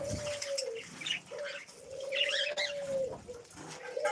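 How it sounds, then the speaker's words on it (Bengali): Several caged birds, pigeons or doves, coo and chirp close by, a low steady cooing running through bright scattered chirps, with occasional soft wing flutters and no talking. "অনেকগুলো পাখি খাঁচার বন্দি করে ফেলছি"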